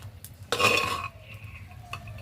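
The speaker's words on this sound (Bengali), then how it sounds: "এবার সেদ্ধ করা ডালটা দিয়ে দিচ্ছি" Boiled lentils for khichuri tipped into a cooking pot, a short wet splash and scrape followed by faint stirring clinks.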